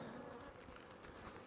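Honeybees at a hive during a spring inspection make a dense, steady buzzing hum, close and continuous, though faint overall.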